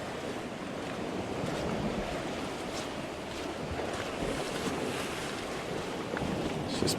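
Ocean waves on a Hawaii shore wash and splash continuously in a dense, steady roar, with wind buffeting the microphone and no voices.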